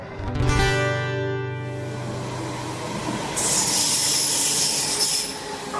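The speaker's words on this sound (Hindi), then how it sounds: "ऊपर से ट्रेन जब आती है तो हम जो है पढ़ाना बंद कर देते हैं" A Delhi Metro train runs on the overhead bridge above an open-air school, opening with a high metallic wheel squeal, then a steady loud rumble and broad hiss rolling past close overhead.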